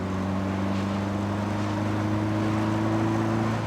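A 1967 Alfa Romeo Duetto Spider engine drones steadily at a cruising pitch in top gear on a farm road, with a constant hum and wind noise throughout and no talk.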